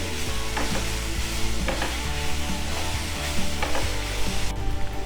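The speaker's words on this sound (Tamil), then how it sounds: "கொத்தமல்லியை நல்லா வதக்கிடலாங்க" Coriander leaves are sautéed with onion and tomato for a tea-stall style chutney, giving a loud, steady sizzle close up, with spatula scrapes arriving at intervals of about a second.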